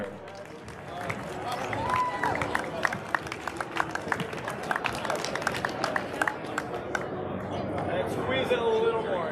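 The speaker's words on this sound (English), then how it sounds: "Let's have a round of applause for Grand Forks Red River." Crowd applause and clapping for the Grand Forks Red River team at a North Dakota esports state tournament, steady and fairly loud, with crowd murmur and voices running underneath throughout.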